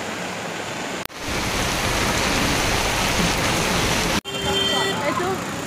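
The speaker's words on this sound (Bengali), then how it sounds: "আমাদেরকে একটু দেখাই কি পরিমাণে বৃষ্টি হতেছে" Heavy rain pours down steadily in a dense, continuous roar, broken by two brief cuts, with faint tones near the end.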